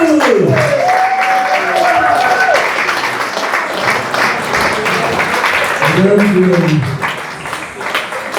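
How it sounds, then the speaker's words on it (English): A crowd in a Masonic hall claps loudly and steadily at a comedy gig, with a speaker's amplified voice carrying over the sustained applause. "clap your hands again, nice and loud, nice and proud, nice and fast"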